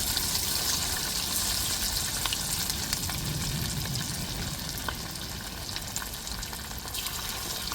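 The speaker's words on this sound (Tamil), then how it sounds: "மிச்சம் இருக்கிற கறியெல்லாம் அப்படியே போட்டு போட்டு எண்ணெயில் பொறிச்சு எடுத்துக்கிடுவோங்க" Leftover chicken pieces deep-fry in hot oil with a steady, close crackling sizzle. Small pops dot it throughout and no one speaks.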